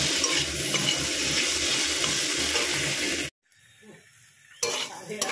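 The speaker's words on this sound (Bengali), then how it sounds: "টমেটো এবারে ভালো করে ভেজে নেব পেঁয়াজের সাথে" Tomatoes and onions sizzle and crackle loudly in a hot pan for a few seconds, then cut off, followed by quieter kitchen sounds and a brief return of sizzling.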